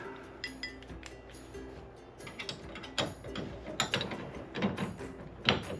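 Metal wrench clinking and ratcheting as stabilizing bolts are wound off a 1987 Jeep Wrangler, with irregular close taps and clicks and a louder clank near the end.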